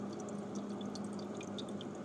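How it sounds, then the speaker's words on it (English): Faint, steady trickle of water running into a repaired refrigerator ice maker's trays, with small drips and splashes over a low background hum. "It's filling up the trays."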